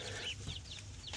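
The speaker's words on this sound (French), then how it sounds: "Non, c'est lui là-bas le coq." Rooster in a renovated chicken coop giving short quiet clucks and chirpy calls in a few brief bursts, faint and somewhat distant against low background noise.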